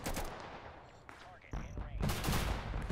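Bursts of automatic AK-74M rifle fire in a war video game, sharp rapid cracks in clusters with a quiet gap in the middle, then dense sustained volleys, loud and close.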